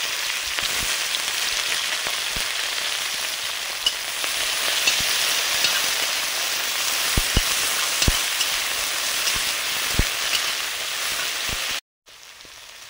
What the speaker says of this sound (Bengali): আদাটা দেওয়ার আগে বিনসগুলো একটু ভেজে নিচ্ছি